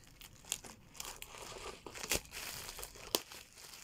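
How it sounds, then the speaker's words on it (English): Bubble wrap packaging around an album being cut open close by, with crinkling plastic rustle and a few sharp snips and tearing bursts, and no talking. "Many bubble wraps. Let me cut this."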